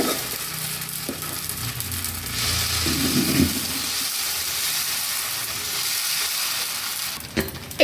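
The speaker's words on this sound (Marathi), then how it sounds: "मंद आचेवर डोसा भाजून घ्यायचा." A thick Davangere butter sponge dosa roasts on a pan over low heat, giving a steady close sizzle and frying hiss with some light stirring or scraping noise and no voices.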